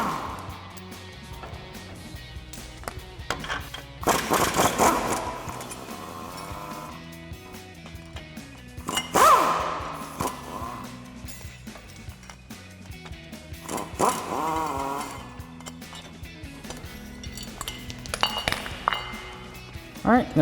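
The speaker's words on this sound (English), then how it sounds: "we're gonna take our nuts off for our U-bolts. So they are 19mm, so we're gonna grab our impact and 19mm socket" An impact wrench with a 19mm socket spins U-bolt nuts off the rear leaf spring of a 2016+ Toyota Tacoma in several short, loud bursts, with metallic clinks and voices between them.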